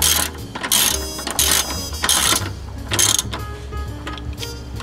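A ratchet tightening bolts on the inverter of a 2010 Toyota Prius, loud close bursts of rapid clicking in several quick strokes with brief pauses between them.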